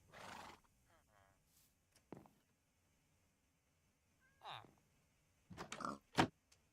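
Horse neighing and pigs oinking in a blocky farming video game: a brief whinny, then scattered short grunts and squeals, distinct and separated by quiet gaps, with soft speech-like sounds between.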